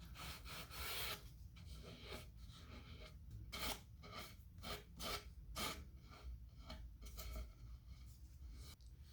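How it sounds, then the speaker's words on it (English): Hand sanding of iron-on edge banding along a plywood edge, a series of close rasping strokes in an uneven rhythm, some short and some drawn out, with no one talking. "So I'm trying just to ride that edge and literally sand only the edge."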